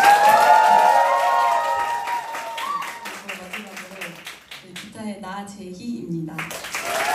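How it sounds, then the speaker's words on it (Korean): Audience clapping for a band member at a small-venue album release concert, applause fading out over a few seconds as a voice begins talking. "가은 양에게도 많은 박수 부탁드립니다."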